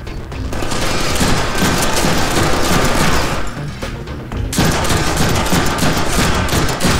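Rapid, dense gunfire from guns in the Deadpool video game, a loud continuous fusillade of overlapping shots that briefly thins for about a second before resuming at full intensity, with no talking.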